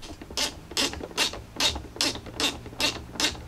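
A new screw being driven into a Jeep Grand Cherokee WK2 tail light, a hand driver ratcheting in eight even, repeated clicking bursts, close and clear with a low hum underneath and no talking.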